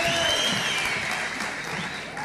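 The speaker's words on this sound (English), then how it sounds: "Round of applause, round of applause, round of applause." Audience at the ICT Summit 2025 applauding in a dense, steady burst of clapping that fills the hall, loud and continuous throughout, with no pause or voices standing out.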